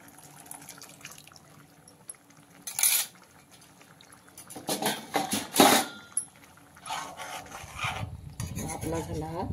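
Blended gravy is scraped and poured from a mixer jar into a pan for a mixed-sprout dal tadka, heard as a few bursts of rasping, rubbing utensil noise that grow busier toward the end, with no talking.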